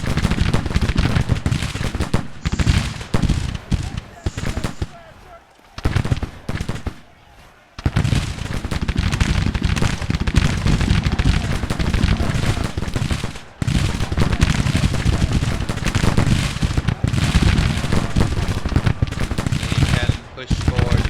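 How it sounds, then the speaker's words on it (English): Cannon and gunfire in the Grand Tactician battle game, dense continuous rattling volleys and booming blasts that pause briefly and then resume loudly. "They have cannon!"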